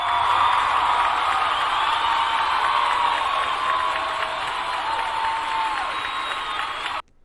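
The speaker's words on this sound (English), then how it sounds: "Can we get a round of applause for her?" A crowd cheers and applauds for a woman at a gathering of African students, a steady wash of clapping and shouts held for several seconds before cutting off abruptly, with faint voices mixed in.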